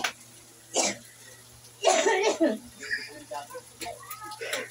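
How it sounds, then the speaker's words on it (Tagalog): A couple of sharp coughs burst out close by, the first brief and the second longer and rougher, followed by some quieter talking and kitchen noise. "Pasensya na po sa umubo."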